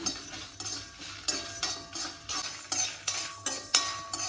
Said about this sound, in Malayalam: ഇത് നന്നായിട്ടൊന്ന് വറുത്തെടുക്കാം